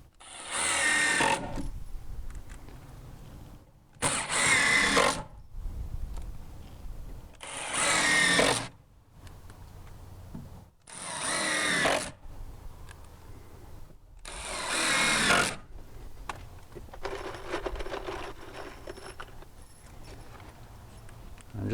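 A power drill drives 3-inch screws into deck stair boards, five loud whirring bursts of a few seconds each separated by short pauses, close up, with no talking.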